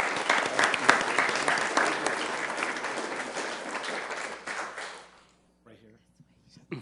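Audience applause fills a city council meeting chamber, a sustained wash of many hands clapping for about five seconds before fading to near silence, with a few faint voices afterward.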